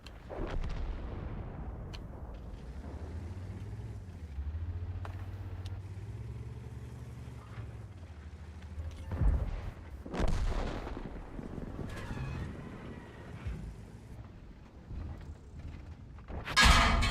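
Tank combat video game with artillery rounds landing nearby, heard as deep booming impacts and low rumbles over a constant engine drone, with a few sharper bursts toward the end.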